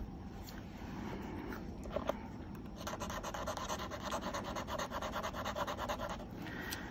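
A metallic paint marker with a hard nib is dragged across paper, giving a steady close scratching and rubbing with rhythmic strokes that quicken midway, alone without talk.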